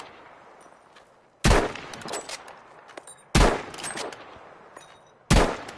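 Three loud sniper rifle shots from the video game Battlefield V, spaced about two seconds apart, each a sharp crack with a short echoing tail over quiet game ambience.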